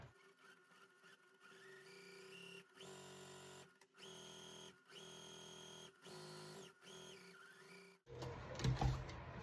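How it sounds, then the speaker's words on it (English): A sewing machine stitches quilt fabric in repeated steady runs of whirring with short pauses between them, close and clear, ending in a louder handling rustle. "now we will sew a 1/4 inch on both sides of the line you just drew"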